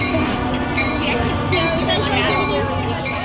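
Christmas train for children running along its track, a steady rolling rumble with clattering and squealing metallic tones, near and continuous, with people talking in the background.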